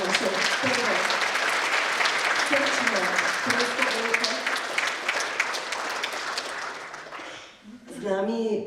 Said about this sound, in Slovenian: En aplavz za naše prve